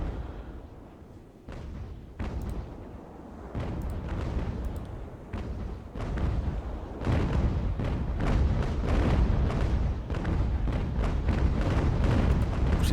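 Naval cannon broadside fire in Ultimate Admiral: Age of Sail, a rolling series of heavy booms that starts sparse and builds into dense, overlapping blasts, loud and close throughout.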